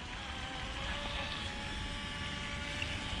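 A water-cooled RC tunnel jet boat on a 3S LiPo battery runs steadily at a distance, its electric motor giving a continuous high whine over water with no talk.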